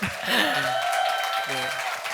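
Audience at a special school arts-education event clapping for a guest teacher's solo performance, a brief broad patter of hands heard under a voice.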